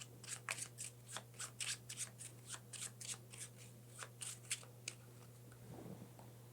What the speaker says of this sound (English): And we're going to shuffle.